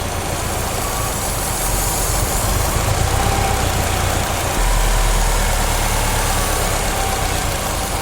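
A Subaru engine idles steadily during an upper engine cleaning, with a deep, even low rumble and a slight shift in tone midway, loud and close with no talking.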